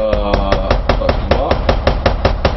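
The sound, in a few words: hammer blows on a wall while hanging lights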